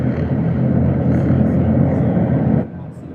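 An atmospheric cinematic drone made in Krotos sound-design software, with a dense, steady low rumbling hum that holds level and then drops away sharply near the end.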